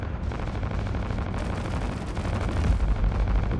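Heavy ship guns of the Iron Enforcer in the space combat game Fractured Space, firing in a dense, rumbling barrage of rapid booming shots that grows stronger toward the end.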